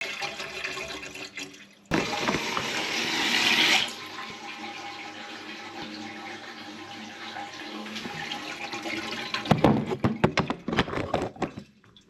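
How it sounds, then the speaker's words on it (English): Water runs from a sink tap and drains through a freshly unblocked pipe that had been clogged by a hairball, a steady close rush and gurgle with a louder splashing surge near the end. "you can actually hear it draining away quite nicely as well"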